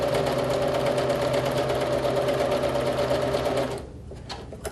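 A sewing machine runs steadily while stitching quilt blocks together, a continuous close mechanical whir and rapid needle rhythm lasting about four seconds before stopping abruptly, leaving quiet room tone.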